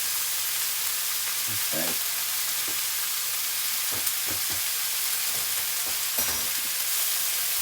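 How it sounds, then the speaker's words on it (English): Spooned-in fish fries in a hot pan for Chinese noodle soup, with a loud, steady sizzle and occasional stirring knocks. A voice speaks briefly. "now this fish is cooking nicely"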